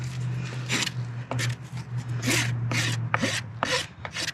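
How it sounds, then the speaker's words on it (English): A rasp files a horse hoof during trimming, making repeated rough scraping strokes, about six in a rhythmic back-and-forth close to the mic, with a steady low hum underneath. "So that when my rasp is moving, it kind of slides across lightly"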